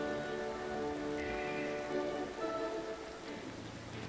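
Rain in the Dreams video game patters as an even, dense hiss mixed with soft background music throughout a few seconds.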